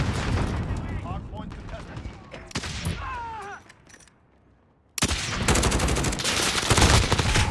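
Gunfire in a video game shooter: rapid bursts of automatic fire and single shots, loud and close, dropping to near quiet briefly before an intense dense volley resumes; a voice talks during the shooting.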